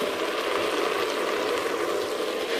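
Chinese cabbage fries and browns in a pan, a dense, steady sizzle with crackling as leftover water boils off, close and continuous.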